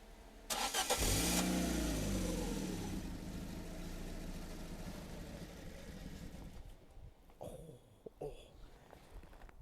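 Fiat Panda 4x4 engine cranks and catches with a loud burst, then revs and settles into a rough, mid-pitched run that fades somewhat toward the end, close by.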